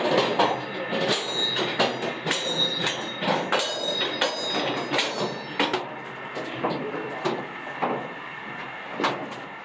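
The Mollie Kathleen gold mine tour train runs on rails underground, with rhythmic clacking of wheels over track joints, metallic knocks and occasional squeals, heard close and steady throughout.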